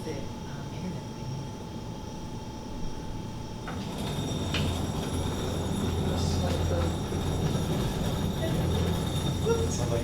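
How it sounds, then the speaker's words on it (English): A train passes near a town council meeting room, a rumbling roar that grows louder midway with faint wheel squeal and a low steady hum, under quiet background voices. "It sounded like a train was coming."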